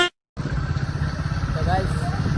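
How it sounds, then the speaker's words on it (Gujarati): Motorcycle ridden through busy traffic, its steady engine drone running continuously close by after a brief silent gap, with voices faintly in the background. "નીકળી પડ્યા બાઇકમાં"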